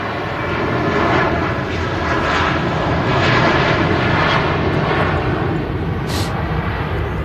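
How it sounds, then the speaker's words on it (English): Lufthansa Airbus A321 taking off from Manchester Airport, a loud, sustained broadband jet roar that holds steady throughout, heavy and rumbling close by. "A321 blasting out, and there you go, really smooth rotation there as she takes to the sky"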